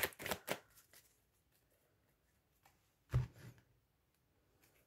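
A deck of cards being shuffled and cut at a reading, a quick ruffling burst at the start, then quiet, then a second softer riffle and tap near the end, close with no talking.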